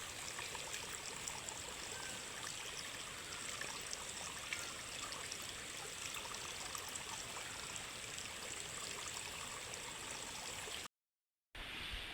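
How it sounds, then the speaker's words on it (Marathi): Steady running water from a forest stream, a continuous broadband rush and trickle that fills the whole clip at an even level, briefly cutting out near the end. "जंगलातलं पाणी मस्त हात धुतो"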